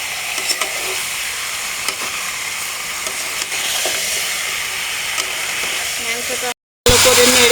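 Desi rooster meat being stirred in hot frying oil, a steady broadband sizzle with scraping stirs throughout, broken by a brief gap near the end before the loud frying resumes.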